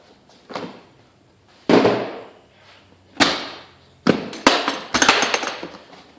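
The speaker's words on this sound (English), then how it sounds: "we're going to pop the top box off here, and we'll dive down into the middle box" A Ridgid portable modular tool box has its top box popped off, giving a series of sharp, close plastic clunks and latch snaps spaced irregularly over several seconds, with no talking.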